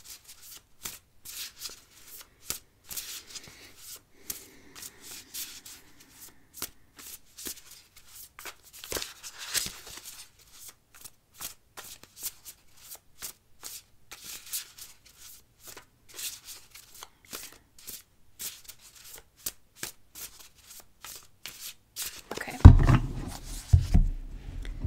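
A Wild Unknown Spirit Animal card deck is shuffled by hand, producing soft, close riffles and flicks of cards in irregular bursts throughout, ending in a louder rustle of handling.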